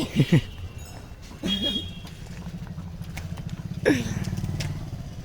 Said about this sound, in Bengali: এই হচ্ছে বাইক আর বাইকটা চালাবো আমি